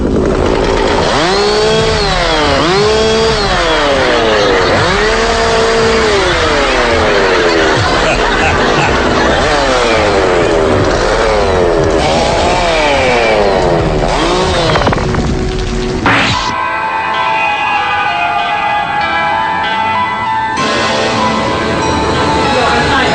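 A chainsaw revs repeatedly up and down, loud and close, with rising and falling engine whines; it later settles into a steadier drone with background noise.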